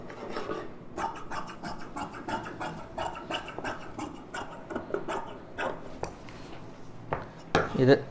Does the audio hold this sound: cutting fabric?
yes